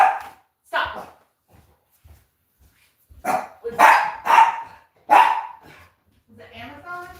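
A dog barks in sharp bursts indoors, several loud close barks in two clusters with quieter yips and a whimper, mixed with a person speaking.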